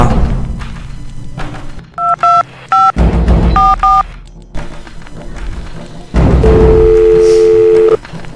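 A phone number punched in on a telephone keypad, several short clipped dual-tone beeps in uneven bursts, followed by a longer steady tone, loud and close with faint room sounds and thumps between them.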